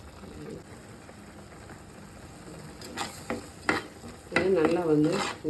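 Onion, tomato and ginger-garlic paste sauté in a pan for egg curry, giving a steady sizzle with scraping stir strokes that grow louder toward the end, where a voice talks over the cooking.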